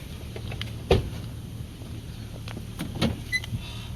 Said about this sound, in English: I'm gonna pop the trunk.